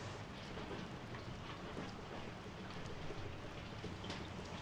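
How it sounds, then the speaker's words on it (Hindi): The first monsoon rain of the season falls in a steady, dense hiss with a soft patter throughout, faint and even, with no one talking. "आज बरसात की पहली बारिश शुरू हो गई है।"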